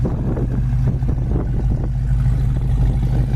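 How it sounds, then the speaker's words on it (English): A 1968 Ford Mustang engine idles on a cold day with a deep, steady rumble through its dual exhaust, loud and close, with a few irregular throaty pulses. "Motor runs excellent. Dual exhaust sounds really nice."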